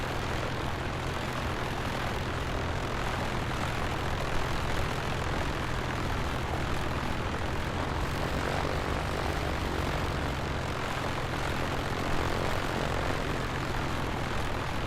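Simulated Piper Comanche 250 propeller engine cruising in flight in Microsoft Flight Simulator 2024: steady, loud, unbroken cockpit drone with a low hum and a broad rushing roar throughout.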